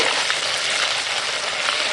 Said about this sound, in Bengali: দেখো মাংসগুলো এরকম উল্টে পাল্টে ভেজে নিচ্ছি